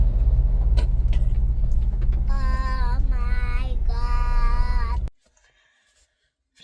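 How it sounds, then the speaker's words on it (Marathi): A car drives along a road under construction in Goa, giving a steady, close low rumble with a tonal whine for about five seconds before the sound cuts to near silence. "आणि आमी तशीच गाडी काडली."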